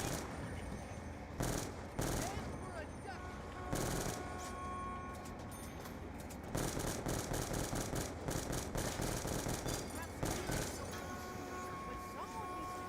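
Rapid bursts of Galil rifle fire in a first-person shooter video game, repeated volleys crackling loudly amid other in-game noise, with voices talking over the shooting.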